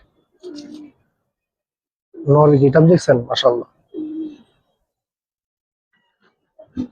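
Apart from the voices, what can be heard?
Giribaz pigeons cooing in loft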